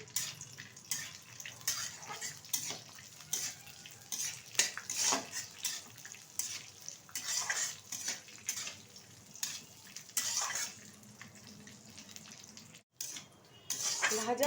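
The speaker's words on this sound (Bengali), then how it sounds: "হালকা করে ভেজে তুলে নেব" Close, quiet frying of dry fruits with a soft continuous sizzle, broken by repeated scrapes and clinks of a spoon stirring in a pan.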